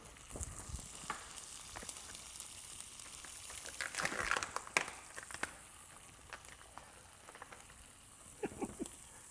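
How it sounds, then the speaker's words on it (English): Marinara sauce sizzling and spattering in a hot pan, a steady crackling hiss with brief bursts of louder popping and some stirring, close and moderately quiet throughout. "I know y'all hear the sizzle,"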